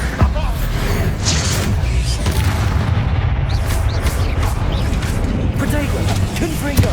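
Bombarda spell explosions in Hogwarts Legacy roll out as heavy booming blasts over a dense, continuous wall of loud combat rumble that never lets up.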